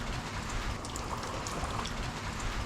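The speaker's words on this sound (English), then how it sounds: "I don't know when it's going to stop raining" Steady rain falls in a backyard on a hillside, a continuous dense hiss of drops on surfaces, fairly even in loudness throughout, with no voices.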